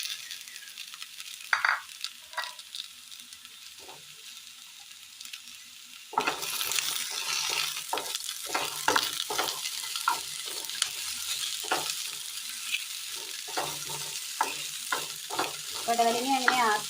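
Cooked snake gourd goes into a pan of fried onions and is stir-fried with a spatula. The sizzle jumps louder partway through, and repeated scraping and stirring strokes follow, close by.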